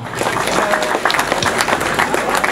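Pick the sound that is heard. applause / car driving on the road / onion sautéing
applause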